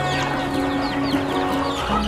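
Free-range village chickens cluck steadily as they crowd in to eat maggots, a busy close flock sound with overlapping calls and no talk.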